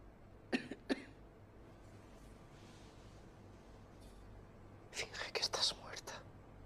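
A supposedly dead woman, Anna, coughs in a film: two sharp close coughs early on, then a quick cluster of coughing and throat sounds later, over a quiet, low hum.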